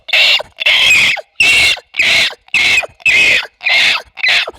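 A voice imitates a pig squealing as a lion seizes it by the head, a run of eight loud, shrill, strained squeals in quick rhythmic bursts, each about half a second with short gaps.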